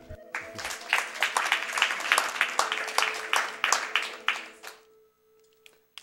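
A short burst of audience clapping at a speedrun event, with distinct individual claps over a steady electronic tone, fading out after a few seconds as a faint tone lingers.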